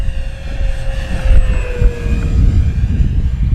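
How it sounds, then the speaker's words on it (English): FMS P-47 Razorback 980mm RC warbird at half throttle makes a steady engine whine with a rising and falling pitch as it passes, set against loud, blustery wind rumble. "I'll bring it down the runway here real carefully at about half throttle"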